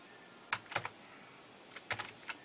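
A few quiet keystrokes on a computer keyboard typing a folder name, two short bursts of clicks against a faint room hum.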